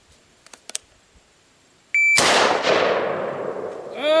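After a few faint clicks, an electronic beep sounds, followed instantly by a single loud gunshot with a long, fading echo.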